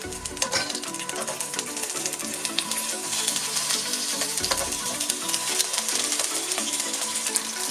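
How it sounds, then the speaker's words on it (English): Lamb shanks brown in hot oil in a pan with a steady, dense sizzle that crackles and spits continuously, close and fairly loud throughout. "make a start by browning off the lamb shanks. Pop those into our pan and just get a little bit of colour on these"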